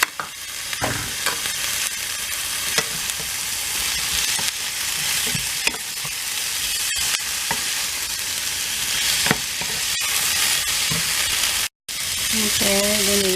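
String beans (sitaw) and jute leaves (saluyot) fry and sizzle in a pan at home, with a steady broadband hiss broken by scrapes and clacks of stirring, loud and close throughout.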